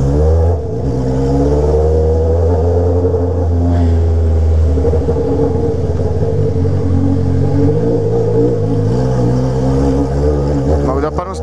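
A Honda Hornet motorcycle with a loud exhaust throbs with a deep, steady engine note that shifts in pitch as the revs change and flares up near the end, with some talk mixed in.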